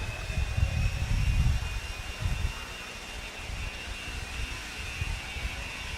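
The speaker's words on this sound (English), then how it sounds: "Marshall, grab your blowers. Start blowing off your areas." Leaf blowers roar loudly with a broad, rushing whine while clearing the track at an outdoor RC car raceway, strongest at the start and then holding steady.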